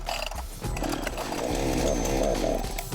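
A chainsaw for felling a tree revs near and loud in a rough, snarling roar that climbs and holds for about three seconds.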